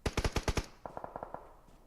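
Video game gunfire comes in a rapid burst of six loud automatic shots. A quieter, quicker volley follows, and the shots fade out by the end.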